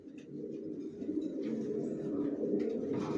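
Several racing pigeons coo together in a loft, a soft, continuous rolling drone of overlapping calls at close range with no one talking.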